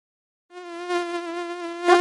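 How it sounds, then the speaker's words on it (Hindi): Mosquitoes in a Hindi cartoon give a steady, high, nasal electronic-sounding whine that starts abruptly and holds on, loud and close, with no speech. "तब एक मच्छर उड़ के चले आ जाते हैं।"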